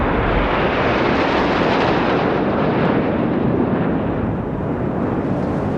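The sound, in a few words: military jet formation flypast at Republic Day parade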